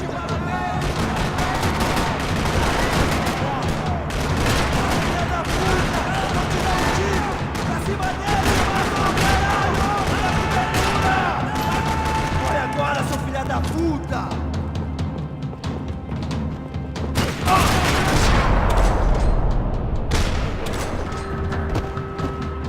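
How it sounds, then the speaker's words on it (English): Rapid, sustained gunfire in a parking lot in the video game Max Payne 3 rattles almost nonstop, bursts and booms overlapping, with voices speaking intermittently beneath the shooting. "Another parking lot rattling with gunfire."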